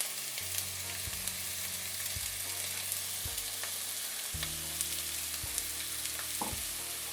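Finely chopped onion, salted, sizzling and frying steadily in a hot pan, with occasional stirring clinks and scrapes; close and continuous, no talking.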